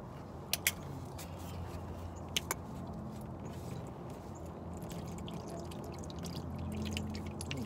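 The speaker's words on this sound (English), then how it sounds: "Drain a little bit more out." Transmission fluid drains from a caravan's transmission in a thin, quiet trickle, with a few sharp clinks of metal near the start and the flow growing slightly toward the end.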